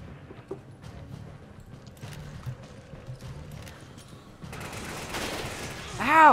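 AK rifle fire in the Resident Evil 5 video game crackles in quick, thin bursts at a distance under a low game rumble, then swells louder and denser toward the end as a voice begins speaking.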